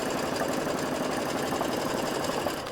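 An embroidery machine stitching a keyfob design outline, its needle chattering in a fast, steady mechanical rhythm that stays close and continuous.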